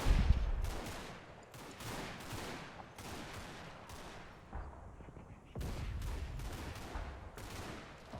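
Bursts of gunfire from soldiers in a military strategy video game, rapid volleys coming in clusters with short pauses between them, fairly steady in level and heard alone without talk.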